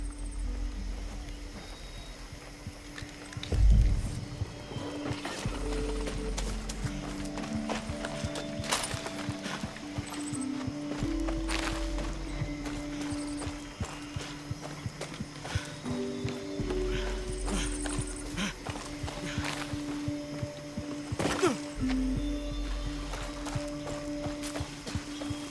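Horse hooves clip-clop steadily as a horse is ridden in the video game Far Cry 6, a continuous rhythmic trot close by over sustained ambient game tones, with occasional heavier thumps.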